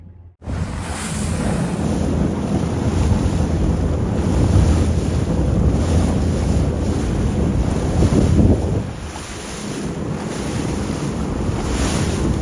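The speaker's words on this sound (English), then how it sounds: "There's like surf waves in the middle of Port Hacking." Surf waves breaking in the middle of the Port Hacking waterway, a steady loud wash of water with heavy wind noise on the microphone, continuous throughout with a brief swell near the end.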